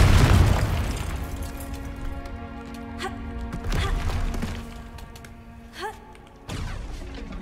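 A Confringo fire-blast spell in Hogwarts Legacy bursts with a heavy booming explosion at the start, followed by a lingering rumbling decay and scattered combat effects.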